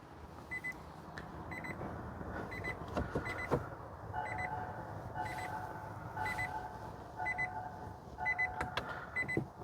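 A Nissan LEAF sounds its door-open warning, a repeated electronic beep in short, regular bursts. It comes through fairly quietly inside the car over a low hum, with no one talking.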